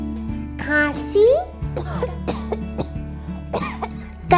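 A child coughs a few times in short, sharp bursts amid childlike vocal sounds and speech.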